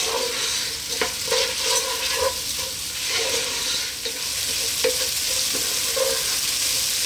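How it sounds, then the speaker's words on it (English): Rice toasts in a pot with black pepper and salt for a thick vegan minestrone, giving a continuous close sizzle broken by recurring scrapes and clinks of stirring. "It's nice to give the rice a little bit of a toasting"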